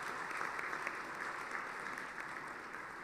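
Steady applause from an audience at a centenary celebration of Punjab Engineering College addressed by the Indian President, a continuous even wash of clapping at moderate distance with no speech over it.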